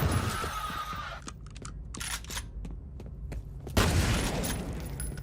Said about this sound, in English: I still don't like the sound of the shotgun